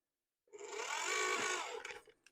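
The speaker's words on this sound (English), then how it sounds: "I'm gonna switch to low and see what that's like." A Ridgid 18V auger runs on its low speed setting for about a second and a half, a steady, even motor whine with a buzzing edge that starts abruptly and then winds down, with nobody speaking.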